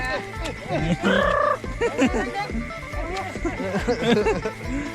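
A turkey gobbles loudly up close, its rapid warbling call cutting through a busy scene, with other fowl sounds and people talking excitedly around it.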